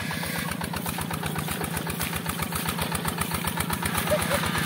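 A modified tractor engine runs hard and close, a loud rapid chugging pulse that stays steady and uninterrupted throughout.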